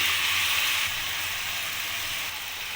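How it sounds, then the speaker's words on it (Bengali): Soybean chili masala sizzling in a pan as it is stirred, with vinegar and soy sauce added, a steady loud hiss of frying that eases slightly partway through, no talk. "নাড়িয়ে চাড়িয়ে মশলাটা ভালো করে কষিয়ে নেবো এটাকে এক চামচ ভিনিগার দিয়ে দিলাম দু চামচ সোয়া সস দিয়ে দিলাম"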